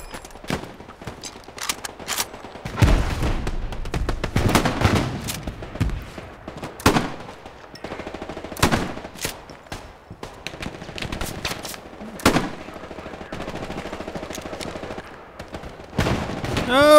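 Bursts of rifle and machine-gun fire in the World War II shooter Hell Let Loose crack out in irregular volleys, some close and sharp and others farther off, over a constant battlefield rumble.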